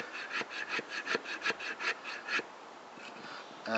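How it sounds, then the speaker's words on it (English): A knife spine scrapes shavings off wood in quick rhythmic strokes, about a dozen close rasping passes that slow and fade toward the end. "Get some shavings off."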